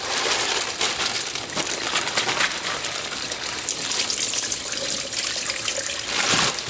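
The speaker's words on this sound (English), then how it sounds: "Try to rinse off all the stuff off of them." Tap water runs steadily as shell-on shrimp are rinsed in a kitchen sink, a close, continuous gushing splash with slight variations as the stream hits the shrimp.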